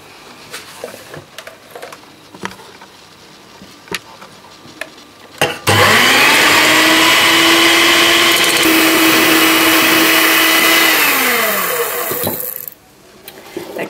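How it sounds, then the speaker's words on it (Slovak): An electric hand mixer whips egg whites into meringue for homemade chocolate ice cream, a loud steady motor whir with beaters churning that runs for about seven seconds after some faint handling knocks, then cuts off. "Ja začnem najprv so snehom, pretože na to vám treba čisté metličky z mixéra."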